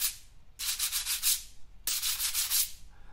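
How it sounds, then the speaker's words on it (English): Sand blocks, a rhythm instrument, are rubbed together in two long, bright, gritty swishing strokes, each roughly a second long with small pulses, close up and with no talk. "Sand blocks are a great rhythm instrument."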